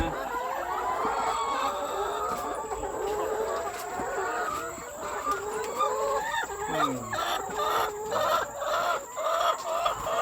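Chickens in a coop cluck and chatter continuously and fairly close, with overlapping calls and a rising squawk partway through, over a steady background hum.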